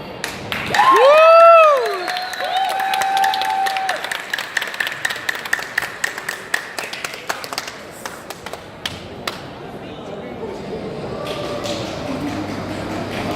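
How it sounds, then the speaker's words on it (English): An audience applauds a barista champion, a loud whoop and cheer up front followed by a long spread of scattered hand claps that thins out toward the end, with voices faintly beneath. "You guys are clapping"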